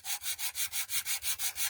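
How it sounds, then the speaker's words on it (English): Glitter card rubbed back and forth with an emery board in quick, even strokes, about nine rhythmic scratchy passes, close and fairly quiet with no talking. "you can sand back your glitter card"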